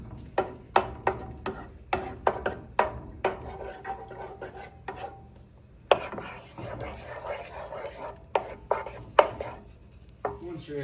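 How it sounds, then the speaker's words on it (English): Eggs being broken up and scrambled in a pan, with a run of sharp utensil taps and scrapes against the pan, then softer stirring and a few more knocks, close and clear. "Taking a little while to crack eggs. And grab something and just break it up and start scrambling them."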